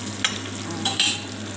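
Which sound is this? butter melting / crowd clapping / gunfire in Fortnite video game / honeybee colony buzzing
butter melting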